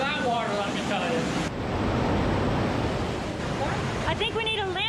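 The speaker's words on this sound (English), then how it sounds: "The stream is pretty strong." A strong stream rushes through a gorge in a loud, unbroken roar close by, with brief voice sounds rising over the water near the start and end.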